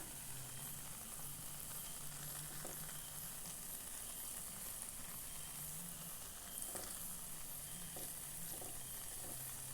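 A four o'clock snack fries in hot oil in a pan, giving a steady close sizzle with faint occasional stirring clicks and no voices.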